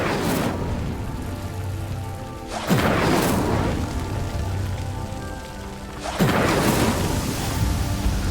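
A fire spell cast in the video game Hogwarts Legacy bursts out twice with a whooshing, crackling blast, each burst loud and close, over a steady bed of game ambience with no talk.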